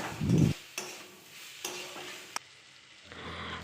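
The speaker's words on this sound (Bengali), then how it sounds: "শুটকি ও বেগুনগুলি দিয়ে ভালো করে নেড়ে চেড়ে মিশিয়ে নেব" Dried fish and eggplant stirred in a frying pan, a loud scrape at the start followed by several short spatula strokes over a soft sizzle, with no voices.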